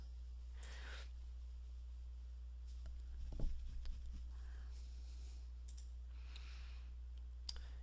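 Faint, sparse computer mouse clicks while navigating to an email account setup in cPanel, with one small cluster of clicks near the middle and a single click near the end over a low steady hum.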